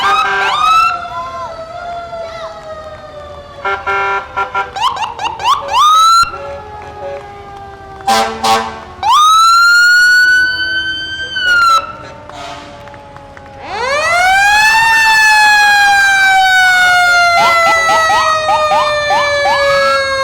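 Ambulance and fire engine sirens wail and sweep up and down at close range during a Founders Day parade, several overlapping, with short horn-like bursts and a voice talking over them.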